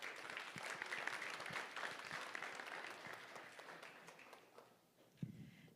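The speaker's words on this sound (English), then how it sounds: "definitely want to give them another round of applause" An audience at a startup pitch event claps for the presenters, a dense, steady round of applause that fades toward the end, followed by a single louder clap-like knock.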